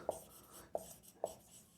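Three quick strokes of writing on a board, each a short sharp tap and scratch spaced about half a second apart, close and quiet.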